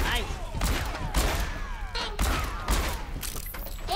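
Rapid video-game gunfire aimed at bots, bursts of shots with heavy low thumps roughly every half second to second, loud and close, mixed with game effects and some voice.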